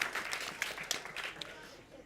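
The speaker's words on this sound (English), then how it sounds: "Yeah, clap it up, clap it up." A congregation at a Shabbat service applauding to celebrate a bat mitzvah, scattered clapping with distinct individual claps at moderate level, voices murmuring among it, fading toward the end.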